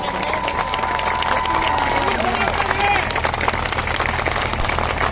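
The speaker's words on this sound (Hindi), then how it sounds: "वो सारे के सारे लोग UGC का जो बिल आया है उसके लिए कम से कम 1 मिनट तक ताली बजाओ" A large crowd at a Bhim Army rally in Niwari claps continuously and densely for several seconds, mixed with murmuring voices and a faint tone in the background.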